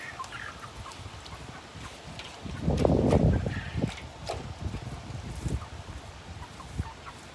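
Chickens cluck and murmur softly nearby, with a louder burst of clucking in the middle against faint background rustling.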